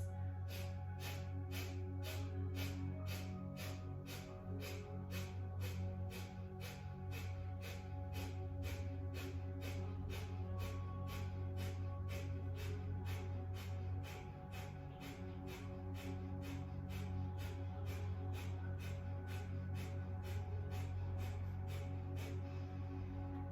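Rapid, forceful nasal exhales in a steady pumping rhythm, Breath of Fire yoga breathing with the navel pumped on each out-breath, about sixty quick snorting puffs running evenly and close over a low steady hum.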